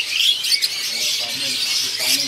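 Young turtle doves at a bird seller's kiosk give soft, continuous chirping and twittering, fairly close and steady for a couple of seconds, with no speech.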